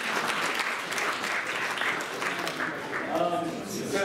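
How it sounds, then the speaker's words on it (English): Audience applause at a review session, a dense, steady clapping that fills the whole stretch, with a few faint voices mixed in. "we can give him a round of applause while they're cheering"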